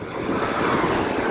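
Rushing stream water pours past a mountain road in Spiti Valley, a steady broadband roar close by, mixed with some wind buffeting, with no talk over it.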